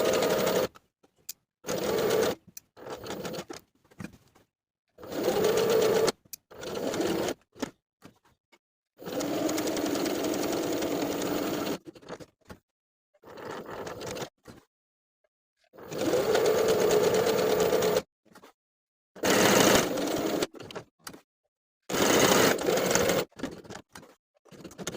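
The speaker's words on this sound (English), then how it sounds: "I'm going to top stitch my pocket in place twice." A sewing machine top stitches a pocket onto a shirt dress in repeated bursts of steady, close whirring, separated by short silent pauses.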